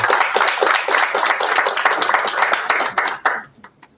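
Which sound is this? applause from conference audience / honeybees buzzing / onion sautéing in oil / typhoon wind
applause from conference audience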